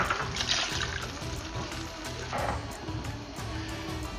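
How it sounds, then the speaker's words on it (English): Half a cup of water is poured into a pan of butter lamb gravy, a short gurgling, splashing pour close by, heard alone. "I will add about 1/2 cup of water."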